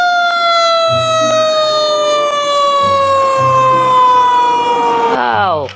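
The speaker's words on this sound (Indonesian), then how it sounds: "Ini ada mobil" A toy fire truck's electronic siren wails loud and close in a steady falling sweep, with short low motor-like pulses beneath, before cutting off abruptly near the end.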